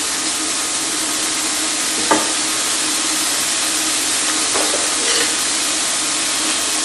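Bacon lardons fry over fairly high heat in a pan, a loud, steady, dense sizzling hiss throughout, broken only by a couple of faint clicks and no talking.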